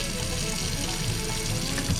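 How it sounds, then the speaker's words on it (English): Water runs steadily from a tap as the line of an RV water filter system is bled of air after changing the filters. The flow gives a continuous rushing hiss with slight gurgles. "now we're going to bleed the line to make sure there's no air. It might make noise"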